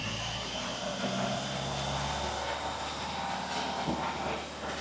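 A Volvo XC60 engine is held at raised revs, a steady, loud droning hum with no breaks, sounding close by.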